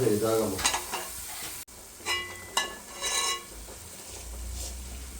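Onions sizzling in a hot pan, with stirring scrapes and bursts of frying that swell and fade over a steady crackle, without any voices.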